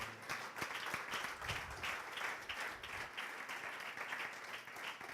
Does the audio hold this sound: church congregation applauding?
yes